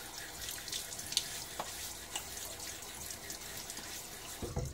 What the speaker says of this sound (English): Let's throw a little water on my face.